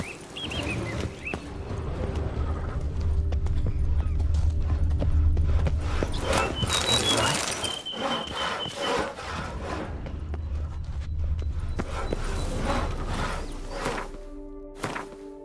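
Geralt's horse Roach galloping in The Witcher 3: Wild Hunt, a steady rapid clip-clop of hooves with a brief whinny and rustling, loud and continuous against game ambience.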